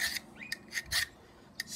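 A file rasps in a few short, separate strokes across hardened heavy-duty carbon steel, light scraping passes that glide rather than bite, close and fairly quiet with pauses between.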